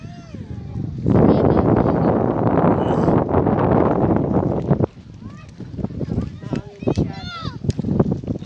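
Strong wind off the sea buffets the microphone with a heavy rushing roar for several seconds, then eases into gustier bursts while a voice speaks.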